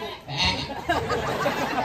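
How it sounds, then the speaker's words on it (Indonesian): Goat bleats mixed with background chatter, in a Balinese bondres comedy stage setting; a continuous wavering animal cry at moderate loudness runs through most of the short stretch, with voices underneath. "Oh itu kambing tuh."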